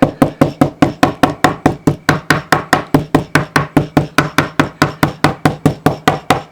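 A chokka squid is pounded again and again to soften it for bait, with about two dozen firm, evenly spaced thuds at a steady quick rhythm, close and loud with no talking.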